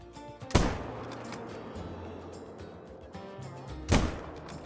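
Two loud, sharp hunting rifle shots in Call of the Wild, about three seconds apart, each a crisp crack with a short echoing tail over quiet outdoor ambience.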